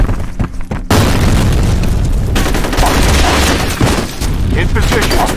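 A grenade goes off in the shooter game F.E.A.R. Combat, a loud sustained boom of blast and rumble with gunfire crackling through it, close and dense, with voices shouting amid the fighting.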